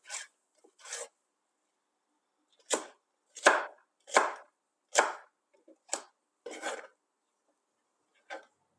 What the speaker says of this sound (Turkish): Biberlerimizi de doğradık.